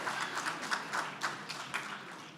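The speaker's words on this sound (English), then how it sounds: "I think we can get a little more applause than that." Audience clapping at a Stanford India Conference panel session, a short, moderate burst of applause from a crowd with some individual claps standing out, fairly close and without talk.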